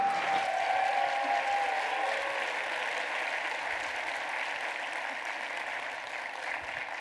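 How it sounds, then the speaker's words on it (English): Conference audience applauding a closing keynote at a Ruby on Rails developer conference, a steady wash of many hands clapping for several seconds, fairly distant and even, slowly easing off. "A round of applause for our closing talk"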